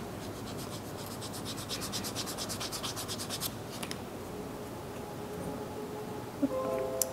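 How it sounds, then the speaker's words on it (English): Sandpaper rubbing along cut leather edges for a playing cards case, a steady close scraping rasp in quick repeated strokes that carries on throughout, with no talking over it. "you can always take some sandpaper and straighten them up."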